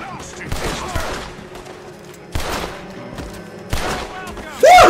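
Gunfire in the Western video game Red Dead Redemption 2 during a jailbreak: three separated bursts of sharp shots with echoing tails, followed by a louder final blast, while the game's score plays underneath.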